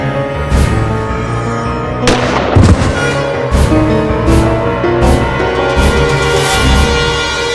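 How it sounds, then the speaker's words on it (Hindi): Sharp gunshot effects in a Hindi courtroom TV drama, several loud bangs and booms in irregular bursts over a dramatic music bed. "द्वितीय इन्होंने मनोज पर गोली चलाई।"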